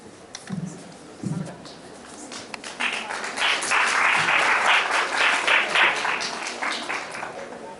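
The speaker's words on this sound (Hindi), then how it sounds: "तालियां बहुत कम बजती हैं" Audience applause at a school prize distribution ceremony in Haryana, India: a few scattered claps early on, then a steady burst of clapping building and sustained for several seconds.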